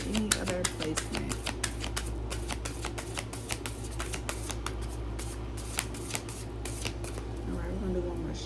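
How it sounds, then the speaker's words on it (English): Rapid riffling of a tarot card deck, steady and continuous, close up over a low background hum, with a voice murmuring faintly underneath. "we're gonna do one more shuffle"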